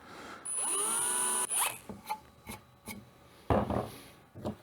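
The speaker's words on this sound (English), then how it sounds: "I'm just going to drill the center mark that I've already found" A drill whines steadily for about a second, then several short bursts of grinding and rasping follow as the bit bites in, close up.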